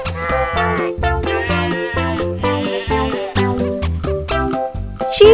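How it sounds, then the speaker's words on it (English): A sheep bleats in repeated wavering calls over a rhythmic musical backing, loud and close throughout. "It's a sheep."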